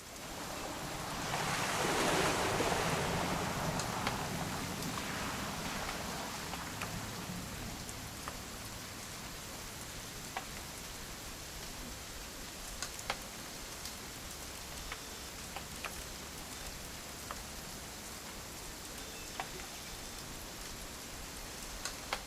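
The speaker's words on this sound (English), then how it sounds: "It's gonna rain the whole weekend" Rain falling in What Remains of Edith Finch, a broad surging wash swelling loudly early on before settling into a steady, softer patter with occasional sharper drips, no voices.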